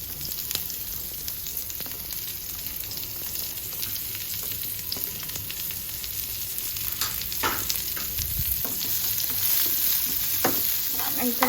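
Onions frying in hot oil in a pan, with garlic already cooked, a continuous close sizzle with occasional stirring scrapes and clicks growing slightly louder toward the end.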